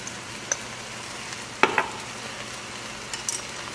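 Rice with saffron being stirred in a pot, a few soft scraping clicks and a brief clatter of the spoon near the middle, otherwise quiet kitchen background.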